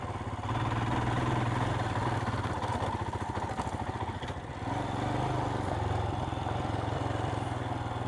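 A Royal Enfield Himalayan 411 motorcycle climbs an off-road slope in second gear, its single-cylinder engine throbbing loudly and steadily close by, with a brief dip in revs midway before pulling hard again.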